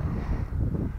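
Wind buffets a microphone outdoors on a sunny late morning in a Breton meadow during a metal-detecting outing, a loud continuous low roar with no break and no voices.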